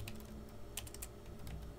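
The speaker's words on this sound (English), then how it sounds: "I'm going to type in DC2" Rapid typing on a computer keyboard, close and steady, with dense clicking keystrokes and a few louder key presses, with no talking.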